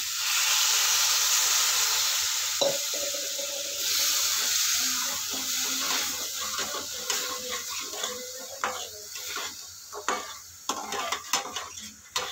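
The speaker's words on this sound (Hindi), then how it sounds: "अभी इसमें थोड़ा सा पानी ऐड कर देंगे" Water poured into a pan of cooked spice masala for a homemade beans dish, starting with a loud hissing sizzle that fades into stirring and scraping of a utensil against the pan, with clinks near the end.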